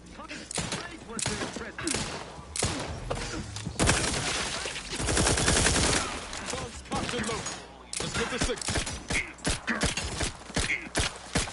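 Gunfire in The Outer Worlds 2 comes as rapid, dense volleys of shots and impacts, loud and sustained in stretches, mixed with game effects and a voice talking in places.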